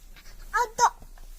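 A toddler imitates a dog's bark with two short, sharp, close "woof"-like yelps in quick succession, surrounded by quiet babbling.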